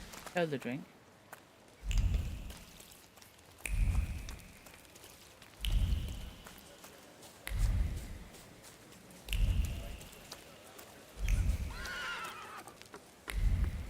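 In the video game The Thaumaturge, a horse whinnies, then heavy rhythmic pulses repeat about every two seconds, with a second neigh near the end, against a hissing rainy background.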